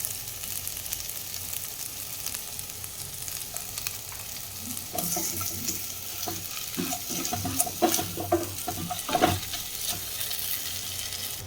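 Chopped tomatoes with salt fry in a pan, a steady sizzle running throughout while a spoon scrapes and stirs in irregular bursts, the stirring growing busier toward the end, with no voices.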